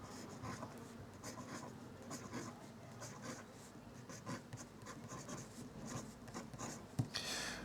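A Sailor fountain pen with a 21 carat gold nib scratches softly across paper, close and faint, with continuous light strokes and small taps as letters are formed.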